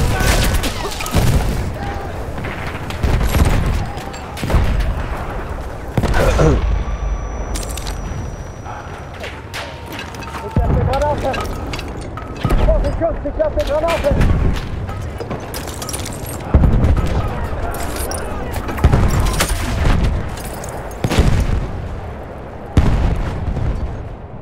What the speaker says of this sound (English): Ich werfe eine Granate, aufpassen!